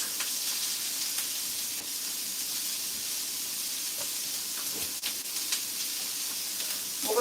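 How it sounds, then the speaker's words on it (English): Onions sauté in a hot pan for a chili soup, giving a continuous even sizzle and hiss close by, with occasional faint clicks of stirring and no speech. "while my onions are sauteing, I'm going to be putting some garlic"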